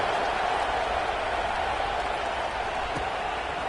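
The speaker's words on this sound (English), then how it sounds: "this crowd is buzzing after that last score" College football stadium crowd at a Michigan vs LSU game, a dense, steady roar of buzzing voices that stays even and fairly distant throughout.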